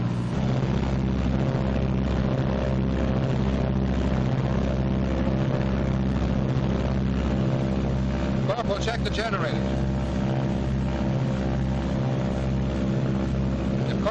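Twin piston engines of a 1944 B-26 bomber run up together at steady power, a loud continuous drone with a pulsing low beat throughout, while a voice briefly calls out over the engine noise.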